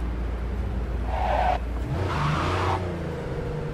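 A Porsche 911 (930) Turbo engine drones steadily while driving, with a low rumble throughout and two brief rises in revs partway through, no voices.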